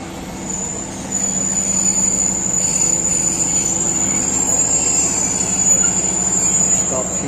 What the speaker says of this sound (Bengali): চলো একটা ট্রেন ঢুকছে।